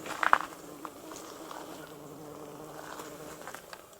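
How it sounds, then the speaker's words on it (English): Bees buzzing softly outdoors, a faint continuous drone with a brief louder flutter near the start. "Look at those beautiful bees."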